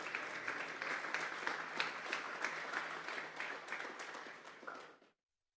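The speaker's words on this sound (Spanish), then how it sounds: "Vamos a darle una ofrenda de palmas a ese amor de Jesús." Palms from a Sunday morning church congregation ring out in a brisk, busy round of applause, holding steady for about five seconds before tapering off quickly into silence.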